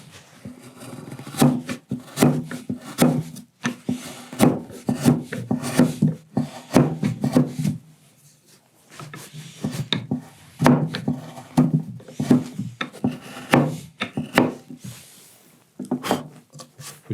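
Chisel paring wood inside a tenon joint produces repeated close scraping and tapping strokes in irregular bursts, with a short pause midway.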